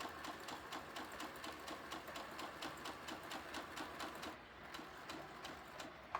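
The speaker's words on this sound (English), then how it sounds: "Put your needle down and start sewing." Sewing machine stitching a quilted cow head, running in a steady rapid rhythm of needle strokes throughout, close and fairly loud with no talking.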